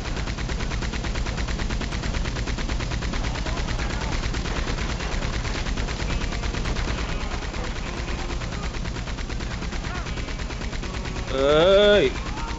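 Rapid gunfire fills a Red Dead Redemption 2 shootout during a robbery mission, dense continuous volleys of shots throughout, with a brief voice rising near the end.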